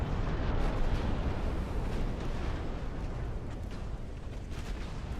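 A torpedo detonates in a naval warfare game with a huge, sustained explosive roar, a dense rumbling wash of sound that keeps going with little decay and no talk over it.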